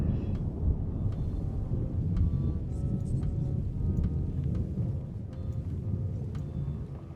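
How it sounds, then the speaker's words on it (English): Video game thunder in Return to Monkey Island rolls as a loud, continuous low rumble over steady rain hiss, with scattered sharp crackles throughout. "that thunder is loud"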